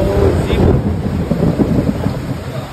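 Heavy rain and rumbling thunder roll steadily around a car stopped by the road in cold, stormy weather, with a dense, loud wash of sound throughout.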